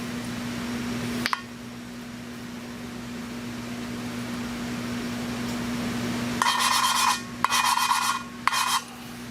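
A hand lapping tool rubs a valve against its seat in a Nissan VQ35DE cylinder head, short gritty scraping strokes in three bursts near the end after quiet background hum.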